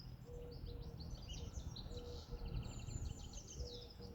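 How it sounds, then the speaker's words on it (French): Birdsong with buzzing bees and insects in a pasture: several birds trill and chirp in varied phrases, with a steady insect drone underneath, soft and fairly distant. "Écoutez le chant mélodieux des oiseaux, le bourdonnement des abeilles, le bruit des insectes."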